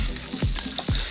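Butter sizzles steadily around a fish burger frying in a pan, with a bright crackling hiss and soft spatters popping throughout, close and fairly loud, with no one speaking.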